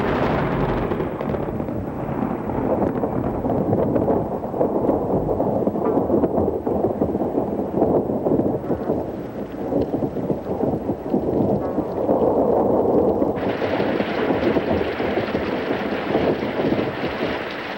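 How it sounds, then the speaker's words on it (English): Heavy, widespread African rain pours steadily in a broad dense roar, with low thunder rumbles beneath and a brighter hiss of downpour rising toward the end. "The rain is heavy and widespread, giving promise of an exceptionally good year."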